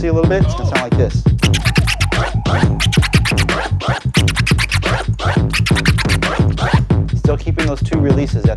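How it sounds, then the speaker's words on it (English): Rapid chirp scratches on a DJ turntable, quicker than before, run as a dense, steady stream of sharp back-and-forth strokes over a continuous beat, each sequence closing with two releases. "Okay, now let's increase our chirps, the frequency a little bit. It's going to sound like this."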